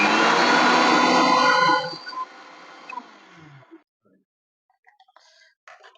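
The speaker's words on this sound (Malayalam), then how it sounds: "തൈര്, നമുക്കൊന്ന് അടിച്ചെടുക്കാം." Electric mixer whipping curd in a kitchen, a loud steady whirring buzz for nearly two seconds that cuts off, followed by faint clinks and handling sounds.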